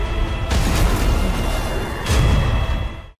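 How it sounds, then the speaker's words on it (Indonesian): A dramatic explosion sound effect with a deep, rumbling roar: two heavy booming bursts, the second a couple of seconds after the first, each sustaining loudly before cutting off abruptly. "menciptakan ledakan super kuat untuk menghancurkan seisi Akademi Shenlan"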